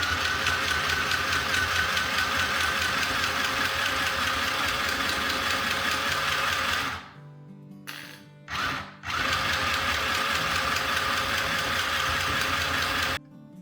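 A sewing machine stitches fabric for burp cloths and a drawstring bag, its motor running in a steady, close, rattling whir. It stops partway through, gives two short bursts, then runs continuously again.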